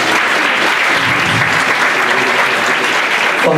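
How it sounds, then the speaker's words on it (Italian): A theatre audience applauds loudly and continuously, a thick, even wash of clapping from many hands that holds without pause, before a stage performance begins. "fatevi un applauso."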